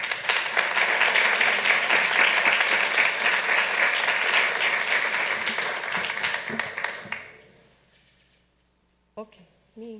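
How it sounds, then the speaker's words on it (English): An audience at a Santa Ana council meeting applauds the Diaz family, a dense burst of clapping that holds steady for about seven seconds and then fades out, followed by a brief voice. "Would you please give them a big round of applause?"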